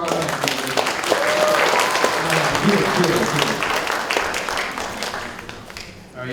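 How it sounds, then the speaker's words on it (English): Crowd applause at a Chicago comic and entertainment expo panel, a sustained burst of clapping with cheers and voices mixed in, swelling early and then tapering off toward the end. "give another round of applause"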